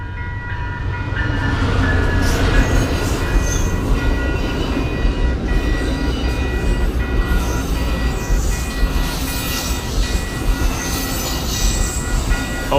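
An Amtrak Surfliner passenger train rolls past a beach near San Clemente, a loud, close, continuous rumble of wheels on rails with faint squeal and clatter that holds steady throughout, no voices.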